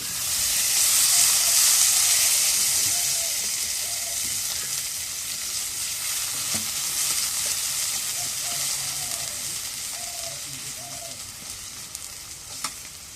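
Fish roe and fish fry in hot oil with a steady, dense sizzle and hiss that holds for the whole stretch, with occasional faint pops and clinks underneath.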